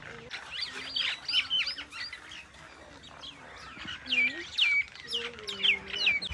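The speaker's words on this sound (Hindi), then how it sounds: "पता नहीं कितने परिंदों की आवाज़ें आ रही हैं।" Many birds chirp and call at once in a village tree beside cultivated fields, a dense overlapping chorus of bright tweets and whistles that rises and falls throughout, some calls close and loud, others softer in the background.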